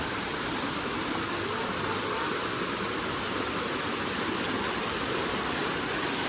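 Strong river water flows with a powerful current beside a riverbank temple, making a dense, constant rushing roar that stays loud and even from start to finish, with no voices.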